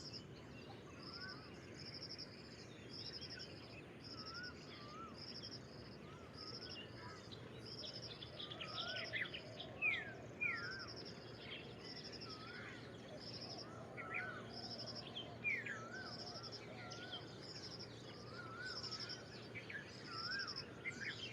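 Common iora and purple-rumped sunbird call within a dense dawn bird chorus, with repeated high whistles and sharp chirps layered over steady insect-like hiss and distant calls, all fairly faint.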